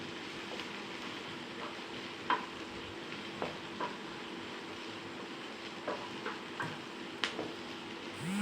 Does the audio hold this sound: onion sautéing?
yes